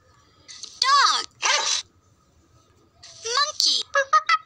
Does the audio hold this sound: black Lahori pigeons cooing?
no